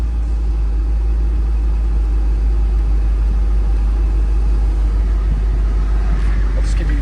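A 2023 Mercedes-AMG G63 4x4 Squared idling, a loud, constant low rumble with a slightly uneven, choppy pulse, heard close up with no break.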